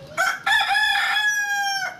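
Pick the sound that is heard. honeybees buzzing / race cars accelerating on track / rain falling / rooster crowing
rooster crowing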